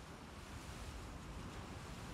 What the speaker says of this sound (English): Those waves.